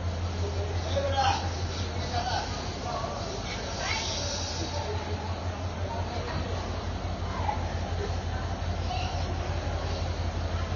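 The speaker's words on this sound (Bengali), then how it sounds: "ট্রেন এইমাত্র কমলাপুর 5 নম্বর প্ল্যাটফর্মে এসে ফিরল।" At Kamalapur railway station in Dhaka, a train rumbles steadily alongside the platform with a continuous low drone and hiss, faint squeals and clanks scattered through it, while station noise and voices carry underneath.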